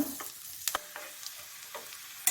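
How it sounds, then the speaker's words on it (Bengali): Plenty of garlic fries in melted butter, about to be joined by mushrooms, giving a soft sizzle. Sharp spatula clicks and scrapes punctuate it, close and moderately quiet. "এবারে আমি গার্লিকটা বা রসুন দিয়ে দিলাম একটু বেশি করেই রসুন দিচ্ছি"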